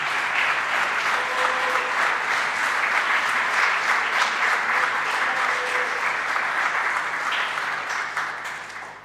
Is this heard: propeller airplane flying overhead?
no